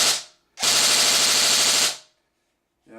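Airsoft ECHO1 XCR rifle letting off a single fast full-auto burst of roughly twenty rapid mechanical cracks lasting over a second, close and loud, with a brief clatter before it and nothing spoken.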